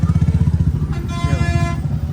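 Motorcycle engines putter loudly nearby in busy Navratri street traffic, with a brief horn toot mixed into the steady rumble.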